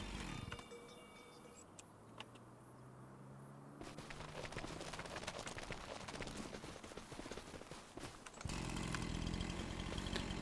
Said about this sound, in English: Yeah, I've got a chainsaw.